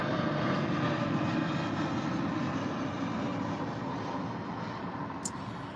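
A steady, loud broadband roar of an airplane passing overhead fills the whole stretch, holding constant and easing off only slightly toward the end.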